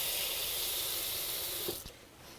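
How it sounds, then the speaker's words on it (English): Water poured into a steamer holding broccoli rabe, a steady broadband pouring rush that fills most of the moment, then cuts off with a soft clink near the end. "Add a little bit of water, just about 1/4 inch."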